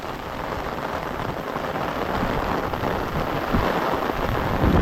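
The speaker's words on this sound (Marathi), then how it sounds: "मित्रांनो पाऊस जोरात आला आहे" Heavy rain pours down in a loud, continuous roar, growing slightly stronger toward the end with deep rumbling underneath.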